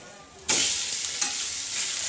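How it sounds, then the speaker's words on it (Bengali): An egg hits a hot pan and bursts into a loud, close sizzle that carries on steadily with light spattering. "ডিম ভাজা চলছে এখানে"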